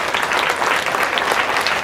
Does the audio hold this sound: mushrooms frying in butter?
no